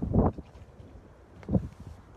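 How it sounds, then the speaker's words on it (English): Gusty wind buffets the microphone at the edge of open sea water on a blustery coast, with two loud low rumbling bursts near the start and again about halfway, and quieter blowing between them. "And it is honestly very windy here."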